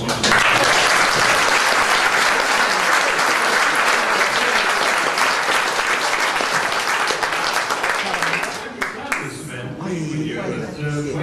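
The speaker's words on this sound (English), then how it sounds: "They really deserve a round of applause." Loud, sustained applause from a large crowd at a community forum, dense and steady for most of the stretch before thinning out near the end as a voice starts speaking.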